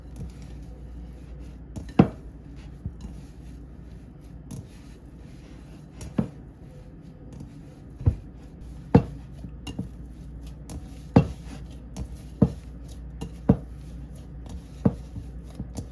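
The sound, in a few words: mixing milk into Jamaican festival dough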